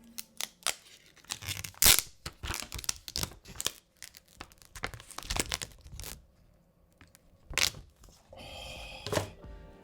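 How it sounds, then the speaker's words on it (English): Protective film peeled off a Samsung Galaxy Z Fold 2 5G in Mystic Bronze, heard as crinkling, tearing rustles in irregular bursts close to the microphone, with a longer steady peeling stretch near the end. "Took off this protective film"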